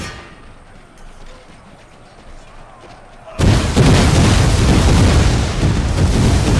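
An artillery bombardment in the strategy game Empire: Total War starts suddenly partway through, bursting into a loud, sustained, dense roar of booms and blasts after a quieter stretch of low ambience.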